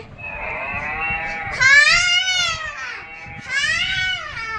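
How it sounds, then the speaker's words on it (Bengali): Two drawn-out recorded cow moos from a children's talking book, tinny and toy-like, played close with a brief pause between them. "এই যে গরু কেমন কেমনভাবে ডাকে"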